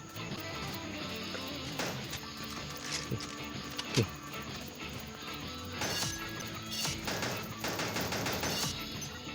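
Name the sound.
gunfire in Pixel Gun 3D video game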